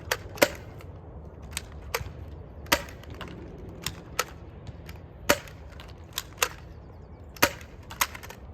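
Dart Zone Pro foam dart blaster fired one-handed, sharp snapping shots at irregular intervals, about a dozen crisp pops spaced roughly half a second to a second apart, close and distinct over a quiet background.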